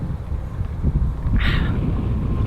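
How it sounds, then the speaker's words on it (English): Strong gusting wind buffets a car, loud broadband roar and rumble filling the whole stretch, with a brief brighter hiss midway; no talking. "It's really windy out."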